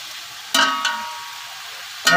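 Boiled mutton tipped into a pot of fried spices, giving two short bursts of sizzling and stirring, close by, separated by a quieter stretch.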